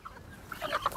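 Hens clucking on a goat and poultry farm, a few short close calls rising toward the end of a brief moment with no talk.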